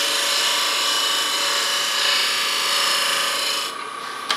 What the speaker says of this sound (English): you angle the scraper down just a little bit, and then you just put it on the wood